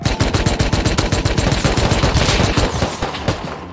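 Rapid automatic gunfire in the survival game Rust, a loud close fast-repeating stream of shots at an even rhythm lasting several seconds before easing off, with no talk.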